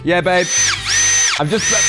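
A loud power drill whines in revving bursts, its pitch sweeping up and down as the trigger is squeezed and released, while someone speaks over it.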